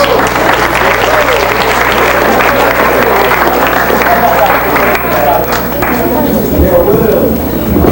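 A grad night hypnotist show crowd applauds its student volunteers: loud, sustained clapping that fills the room, with voices and crowd noise mixed in throughout.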